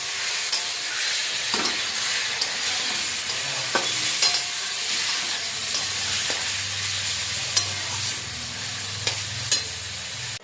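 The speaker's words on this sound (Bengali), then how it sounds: "এবার মাংসটা দিয়ে দিলাম, একটু তার সাথে জল দিয়ে দিলাম। এবার কষাবো।" Chicken and papaya hiss loudly in a hot pan after water is added, a dense, continuous steamy sizzle broken by a few sharp clicks of a stirring utensil.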